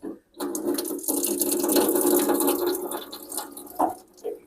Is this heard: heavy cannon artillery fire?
no